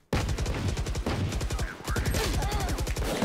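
Rapid automatic gunfire in the tactical shooter Valorant, loud and sustained bursts of rattling shots with a brief pause midway, filling the whole stretch without speech.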